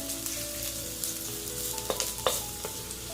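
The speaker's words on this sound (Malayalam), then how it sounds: "ഇഞ്ചിയും വെളുത്തുള്ളിയും ഒന്ന് മൂത്ത് വരുന്നുണ്ട്." Ginger and garlic fry in olive oil in a pan, giving a soft, steady sizzle with a few light stirring clicks, quiet and close.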